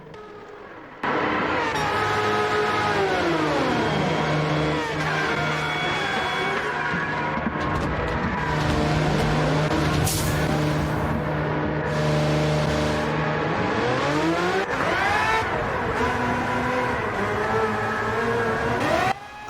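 In Gran Turismo 7, a race car engine revs loudly and continuously as it enters the pit lane, its pitch dropping and rising in smooth sweeps, alone with no voices.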